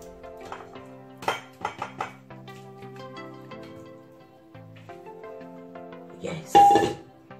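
Meat and shaki for a spinach njama njama vegetable soup are moved from a pot into a bowl, giving scattered clinks and scrapes of utensils against cookware, with a louder clatter near the end; a voice hums or talks faintly in the background.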